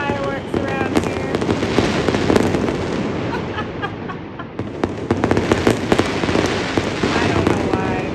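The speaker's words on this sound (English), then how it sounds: "We still have the fireworks around here." Fireworks burst nearby in a dense, continuous barrage of crackles and pops, loud throughout with sharp transient bangs layered over a rumbling wash, and faint voices mixed in.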